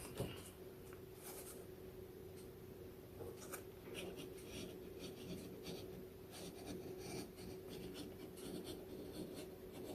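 A pen marking a cut line on a pattern, giving a faint, soft scratching of short strokes across the paper, very quiet and close against a low background hum.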